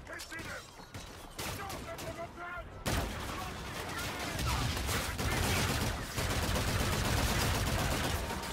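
Sustained gunfire in Call of Duty: Infinite Warfare, heavy continuous shooting and blasts that swell louder midway, with a voice talking briefly under the din early on.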